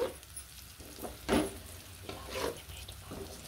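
Ingredients for tomato chutney frying in a pan, a soft sizzle broken by a few scraping stirs, the loudest near the middle, heard close but at modest volume with no talking.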